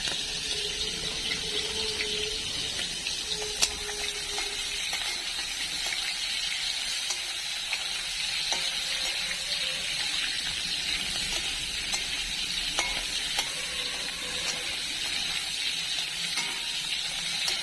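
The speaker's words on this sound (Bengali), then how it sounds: "চিংড়ি মাছটা একটু ভেজে নিব" Prawns, seasoned with chilli and salt, fry in a pan with a steady broadband sizzle and hiss that carries through the whole stretch, joined by a few faint clinks and bubbling pops, with no one talking.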